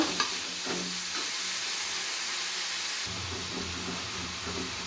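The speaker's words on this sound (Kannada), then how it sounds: "ಇವಾಗ ಮೆಂತ್ಯ ಸೊಪ್ಪು ಹಾಕೊತಾ ಇದ್ದೀನಿ. ಮೆಂತ್ಯ ಸೊಪ್ಪು ಚೆನ್ನಾಗಿ ಫ್ರೈ ಮಾಡ್ಕೊತೀನಿ ಒಂದು 10 ನಿಮಿಷ." Fenugreek leaves frying in oil after onions, a steady close sizzle and hiss with stirring scrapes running throughout, with no talk.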